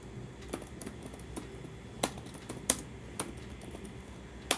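Keys clatter on a computer keyboard during a Python programming lesson: irregular, close typing with several sharper louder strikes over steady low background hiss, with no talking.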